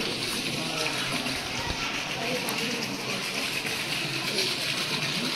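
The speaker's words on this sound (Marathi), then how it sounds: "हा पाणी गरम आहे. पलीकडच्या ह्याच्यातून इकडे येते." Hot spring water flows continuously into a sacred temple bathing tank near the Hidimba Devi Temple, a steady broadband rush filling the scene, with people talking nearby.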